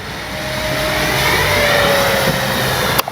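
A Flightline 1200mm F8F Bearcat RC warbird in a hard dive, its electric motor holding a steady, loud whine that rises slightly as it passes, with a faint descending tone drifting through and a sharp click at the end.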